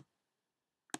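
A single sharp computer mouse click on a laptop, close and isolated in an otherwise quiet room, preceded by a faint tick at the start.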